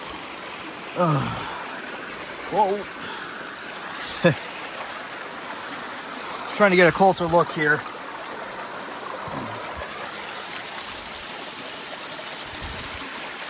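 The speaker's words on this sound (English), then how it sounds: "it just flows right out of the ground here and down that hill into the creek there" Spring water wells straight out of the ground and runs downhill into a creek at Big Spring in Highland, Wisconsin, a steady soft trickling rush, with someone speaking briefly over it and a few short knocks.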